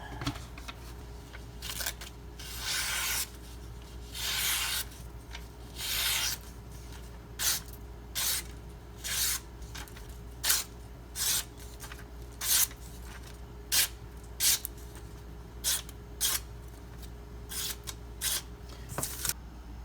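A Benchmade 9400 knife blade scrapes along a Shapton Glass whetstone in repeated strokes, each a short gritty rasp, close up and steady in rhythm with no talk.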